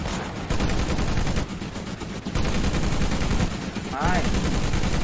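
Gunfire rattles in Medal of Honor on PS2: dense, continuous volleys that roar almost without pause for several seconds, briefly thinning before surging again.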